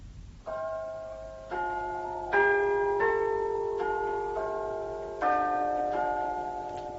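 Church bells in Cambridge ring out in a series of overlapping resonant strokes, each new clang layered over the lingering hum of the last, at a moderate distance.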